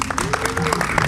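A brief burst of audience clapping at a Medellín podcast event thanks the sound crew, quick and fairly close, with a voice running underneath.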